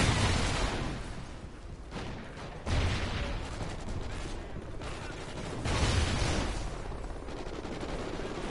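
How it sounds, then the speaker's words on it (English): Loud, dense bursts of video game gunfire and blasts crash together in a continuous, chaotic roar, with several sharp surges standing out. "That's an explosion."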